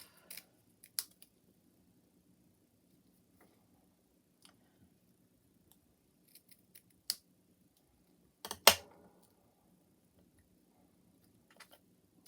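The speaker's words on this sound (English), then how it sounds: "So let's cut the sword part off." Scissors cut a paper die-cut sword piece from a Nutcracker and Mouse decoupage set, a few sparse, close, crisp snips and clicks separated by near silence, with one louder double snip near the end.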